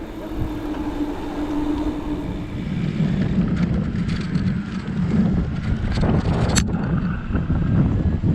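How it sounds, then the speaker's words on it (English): Wind buffets the microphone while riding a Giant Trance X E+3 e-bike on trails, a loud low rumble that keeps pushing and gusting, growing stronger after the first few seconds, with a brief sharp click near the end. "We're riding into the wind on the way there"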